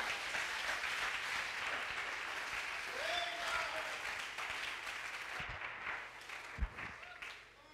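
A church congregation breaks into sustained applause for the Lord, a dense, even wash of clapping that fades out near the end.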